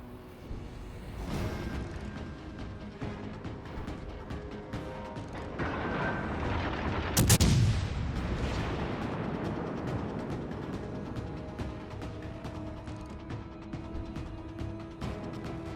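Naval gunfire from a USS Nevada battleship in World of Warships Legends: a deep booming salvo with a rushing whoosh midway over a steady mechanical engine drone and faint clicks, no speech.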